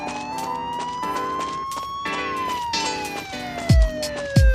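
A police siren in the video game Car Simulator 2 wails with a slowly rising then falling tone, joined by a few short pulsed bursts and two low thumps near the end.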